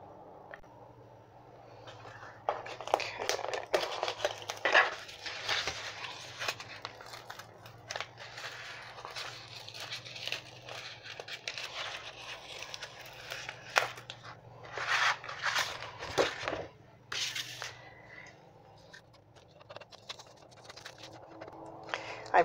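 Metallic foil being peeled off cardstock in a craft room makes a close, crinkly crackling with irregular bursts of rustle, louder in a few stretches, over a faint low hum.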